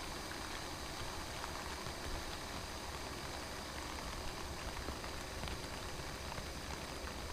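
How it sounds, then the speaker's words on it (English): Steady rain patters on a zipped-up tent overhead, a dense, even hiss with soft drops, close by and uninterrupted. "listening to the rain"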